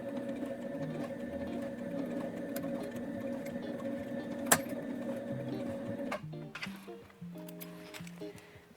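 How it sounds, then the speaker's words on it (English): A sewing machine fitted with a zipper foot stitches a line through fabric, a steady close-up mechanical whirr running for about six seconds before stopping, followed by a few light clicks and handling sounds. "we're gonna take it under the sewing machine foot, and we're gonna sew a line of stitches"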